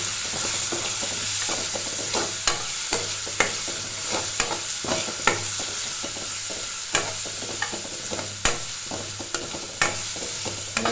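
Crushed garlic fries in a pan for a manathakkali keerai kulambu, giving a steady close sizzle broken by irregular scrapes and clicks of stirring throughout, with no voices.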